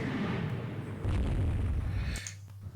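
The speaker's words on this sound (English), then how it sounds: "Unidentified ship hit by torpedo." A torpedo strikes a ship in the naval strategy game Rule the Waves 2, giving a single deep, rumbling explosion that swells for about a second and then cuts off into a quieter low hum.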